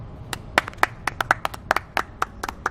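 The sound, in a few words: applause, hand clapping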